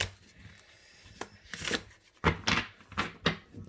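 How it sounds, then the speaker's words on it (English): Tarot cards shuffled by hand before a reading, a series of crisp riffling bursts and soft taps at a close distance, irregular at first and then coming in quicker repeated shuffles. "I feel the need to shuffle them all before I put them out"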